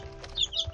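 Three-week-old chicks in a brooder box give a few soft, short clucks and peeps in a quick cluster, close by and fairly quiet.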